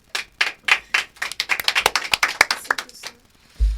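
An audience at a French spelling contest claps in a quick, rhythmic run of sharp, close handclaps for about three seconds, ending with a low thump.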